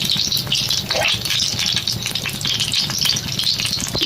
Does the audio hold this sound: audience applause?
no